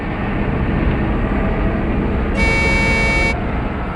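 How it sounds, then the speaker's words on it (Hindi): A vehicle horn, linked to a truck in a forest, sounds one loud steady honk lasting about a second over a continuous engine rumble. "हॉर्न भी बजा रहा है।"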